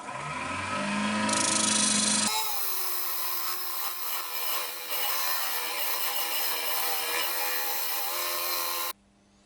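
A wooden box lid is parted off on a wood lathe, giving a loud continuous whine of the spinning workpiece with a steady scraping cut from the tool that runs for several seconds and then stops abruptly.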